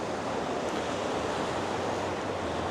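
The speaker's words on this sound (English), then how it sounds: "the sea rolling in" Steady, dense rush of sea waves rolling onto a beach on a calm coastline at Blackpool as the tide goes out, continuous and fairly loud, with no voices.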